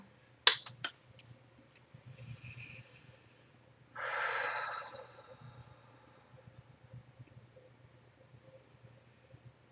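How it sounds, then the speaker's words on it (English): Slow breathing in and out close to the microphone, a sharp snort-like inhale followed by a long soft exhale, quiet and isolated with small clicks and low background hum. "just breathing in and out"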